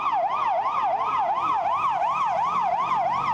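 An ambulance siren wails loudly and continuously at a medics' protest picket in Lviv, its pitch sweeping up and down in a steady, fast repeating cycle with no talk over it.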